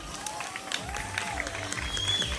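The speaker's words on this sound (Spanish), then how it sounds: "Le damos un fuerte aplauso, por favor." Audience applauding during a candidate presentation for the queen of the 2021 Feria Patronal in Jiménez del Téul, a fairly faint, steady patter of clapping with a few voices and a whistle mixed in.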